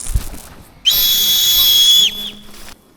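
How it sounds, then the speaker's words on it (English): A single shrill whistle blast is held for just over a second, close and loud, then a fainter short toot follows, on a beach during Polish Navy special forces selection training. "Here we have the whistle."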